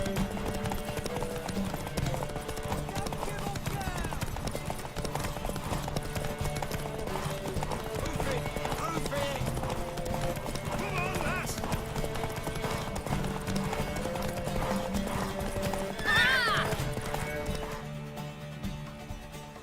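Hooves clip-clop at a steady gallop from a horse in The Witcher 3, with a whinny near the end and faint game ambience underneath.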